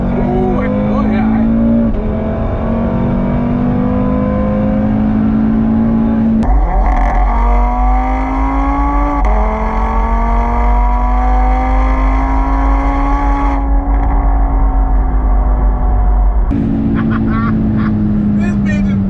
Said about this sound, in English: So you smash the gas and downshift.